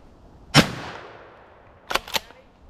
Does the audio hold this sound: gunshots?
yes